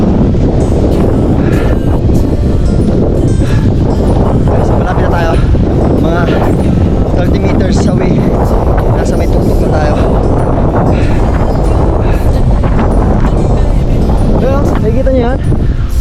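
Strong wind buffets the microphone with a constant roaring rumble throughout while climbing up to the Balete Tree, loud and close, with faint voices underneath.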